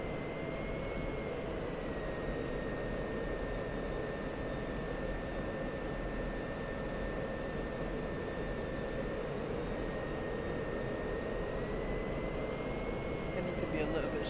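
An F-16 Viper jet flying a slow, high angle-of-attack airshow pass gives a steady, loud, continuous roar with a sustained whine. The sound stays broad and unbroken throughout, with faint talk beneath it.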